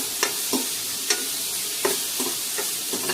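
Tomato, green chili and garlic stirred in a sautéing pan, a soft steady sizzle under sharp spoon scrapes against the pan that come every half second or so, close by with no talking.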